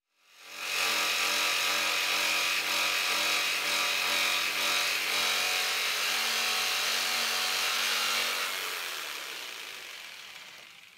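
A power saw cuts steadily through a piece of wood for about eight seconds, close and loud with no pauses, then winds down and trails off at the end.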